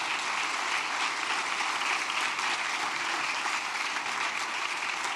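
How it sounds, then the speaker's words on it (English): Audience applause at a community kickoff breakfast honoring local leaders, a dense, steady wash of many hands clapping at even loudness throughout, with no talk over it. "Please, a round of applause for these fantastic leaders."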